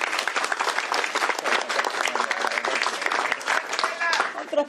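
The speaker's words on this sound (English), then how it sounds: "another round of applause for Estella for her wonderful" Audience applause at a governor's bill signing ceremony, steady dense clapping from a room full of people that carries on for several seconds with voices mixed in.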